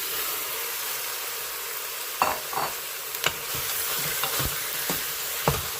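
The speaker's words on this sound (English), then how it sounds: "I'll go ahead and add my riblets now." Pork riblets frying in an Instant Pot on saute mode, a steady loud hiss broken by a few scattered pops and stirring scrapes.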